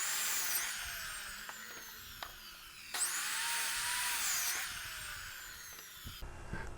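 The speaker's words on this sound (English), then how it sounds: "To make these first cuts, we're just going to set our saw up at 32 degrees and we'll cut the bottoms of both inside legs" Power saw whining through wooden table legs at a 32-degree angle, a steady high-pitched cut with sharp bursts as the blade bites, repeated in a couple of passes, close and loud.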